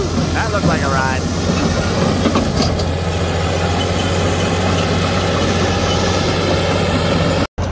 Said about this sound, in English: They also just fired up the high hoe. They're letting it warm up.